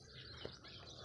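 Sparrows chirp in a steady busy chorus near a temple, a dense layer of bird calls with insect-like buzzing and no talking.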